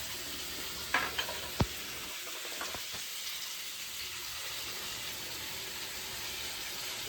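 Green chilli paste hits a hot pan with river bele fish and ridge gourd, making a steady, close sizzle with a few sharp clinks and stirring knocks early on.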